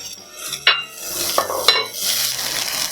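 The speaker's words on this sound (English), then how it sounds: "After sautéing the vegetable for about 2 to 3 minutes and cook for 1 or 2 minutes." Vegetables for jowar pulao sautéing in a pan, with a light sizzle under a few sharp clinks and scrapes of a utensil against the pan in short bursts, close and fairly loud.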